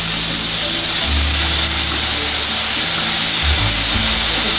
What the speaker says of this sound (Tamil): இதை நல்லா பொன்னிறமாக வதக்கிக்கோங்க.